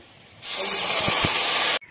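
Fried garlic goes into a hot pan of oil for a shol fish and bitter jute leaf curry, setting off a sudden loud hiss that holds steady for over a second and then cuts off sharply.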